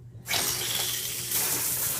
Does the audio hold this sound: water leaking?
yes